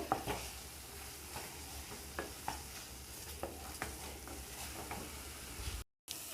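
Milk powder is stirred into a banana sandesh mixture in a pan, with faint rhythmic scraping and spoon taps over a low sizzle, pausing briefly near the end.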